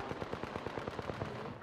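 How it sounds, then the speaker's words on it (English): Automatic gunfire in the Apex Legends shooter, a rapid, steady rhythm of about a dozen close, punchy shots over roughly a second and a half, cutting off as a brief mechanical clatter ends the burst. "Shots fired, and they're hitting me."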